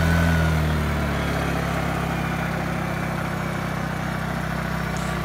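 A small generator engine idles steadily with a continuous low running drone and a faint rattle from a bad cam bearing, heard close and alone, with no talk over it.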